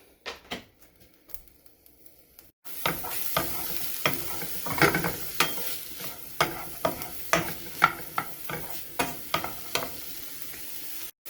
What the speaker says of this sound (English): And actually cook this onion to whatever color you want